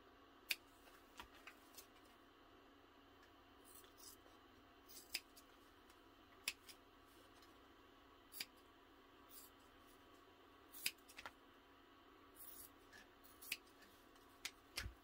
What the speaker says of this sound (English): the rest I need to do with scissors